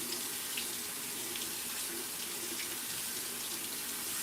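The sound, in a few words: rinsing canned beans under running tap water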